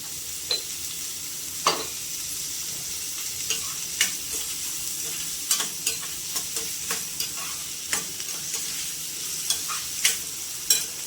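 Salted onions sizzle steadily in a hot pan for a dried-fish curry while a spoon scrapes and stirs at irregular intervals, each stir a sharp clatter over the constant frying hiss.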